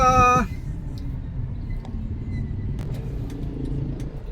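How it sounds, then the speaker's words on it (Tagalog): Road traffic on a city street between Marikina City and Santa Mesa: a low, steady rumble of nearby car engines, with a brief tonal sound at the very start and faint clicks above. "Traffic na, traffic na, maaga pa."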